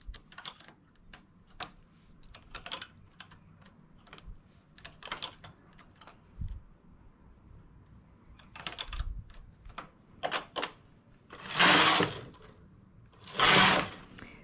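A domestic knitting machine working a lace heart, giving irregular clusters of sharp mechanical clicks and ticks at close range, with two longer, louder whooshing carriage passes near the end and no talking.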